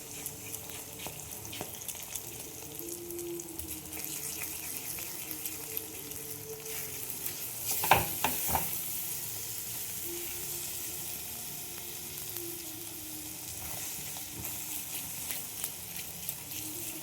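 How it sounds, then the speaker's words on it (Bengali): Two beaten eggs sizzling in hot white oil in a pan, a quiet, steady crackle with a couple of sharp utensil clinks midway. No voices are heard. "দেখো তেলটা গরম হয়ে গেছে, আমি 2টো ডিম নিয়ে, ডিম 2টো ফেটে নিয়ে এর মধ্যে দিয়ে দিলাম।"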